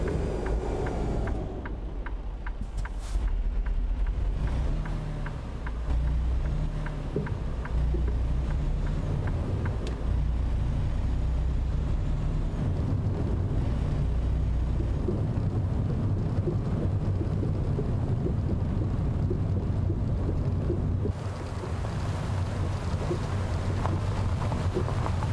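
A Freightliner Cascadia truck with a 600 HP engine drives in American Truck Simulator, giving a continuous low engine rumble and road drone that holds steady for the whole stretch, with a brief shift in tone near the end.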